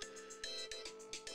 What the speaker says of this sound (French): Ça c'est la sonnerie qui dit que dans un quart d'heure max, il faut que je parte à France Télévisions